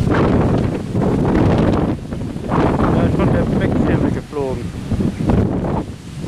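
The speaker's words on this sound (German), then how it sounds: "Und das wird jetzt immer heftiger mit dem Wind" Strong, roaring wind gusts during a severe thunderstorm with a shelf cloud in Kerken, buffeting the microphone in loud surges, while someone talks over the noise.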